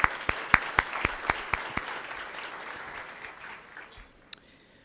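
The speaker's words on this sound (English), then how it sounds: "So let's give them a nice applause." Audience applause for a media team at a city address, starting with sharp evenly spaced near claps over a broad crowd wash that gradually fades out.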